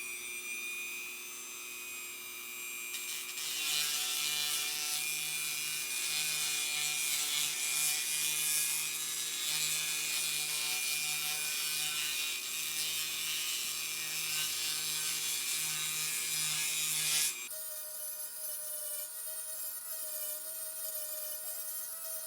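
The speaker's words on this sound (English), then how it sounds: "I may have to speed that process up, being brass, with this little Dremel tool here. Good for cutting slots." A small Dremel rotary tool cuts slots into a brass guitar nut during a Peavey Mystic repair, a steady high whining grind running about fourteen seconds close up, then stopping into a quieter workshop hum.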